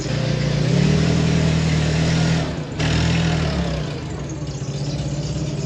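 A skid steer loader engine running on a farm, a steady close diesel rumble that dips briefly partway through, then keeps idling with a slightly uneven throb.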